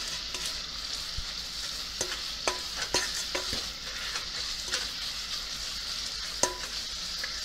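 Sweet potatoes sizzle steadily in a pan for caramelized sweet potatoes, with a spoon scraping and stirring in scattered sharp clicks and scrapes over the constant frying hiss, close and fairly quiet, no voices.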